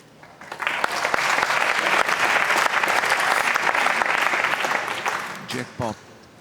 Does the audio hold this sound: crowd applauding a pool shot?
yes